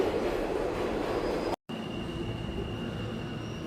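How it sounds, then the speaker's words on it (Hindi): An old underground metro train on a 125-year-old system arrives with a steady loud rumble and a thin high wheel squeal, broken by a brief silent gap. "ये आ भी रही ट्रेन, मेरे सामने खड़ा है"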